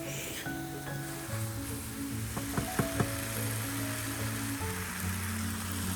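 Small chicken pieces cook in a pan for a spring roll filling, giving a steady close sizzle with a few clicks and a faint tonal hum underneath.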